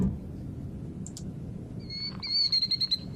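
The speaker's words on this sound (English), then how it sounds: "There's my bird call." A bird call sound effect triggered in the InWorld platform plays as a short series of high, thin chirps near the end, after a brief chirp earlier over a soft background hiss.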